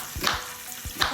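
Fish fillets frying in a pan give off a soft sizzle, with two short bursts of crackle and spatter standing out against a low steady hiss, all close by and fairly quiet.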